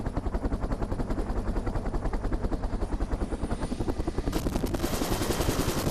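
A military helicopter carries marine special forces troops, its rotor beating in a rapid, loud, steady chop close by, turbine hiss swelling near the end, no voices.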